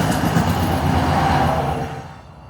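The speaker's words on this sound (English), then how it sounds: "We've got a high rail coming." A hi-rail vehicle rolls past on the railway line through Ashland, Virginia, a close, steady rumble with a faint rail hiss that fades quickly as it moves away.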